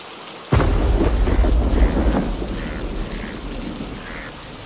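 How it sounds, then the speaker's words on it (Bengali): Cartoon storm scene: a sudden loud thunderclap breaks the silence, then rumbling thunder fades under steady heavy rain, with no voices. "সকাল থেকে যা বৃষ্টি শুরু হয়েছে"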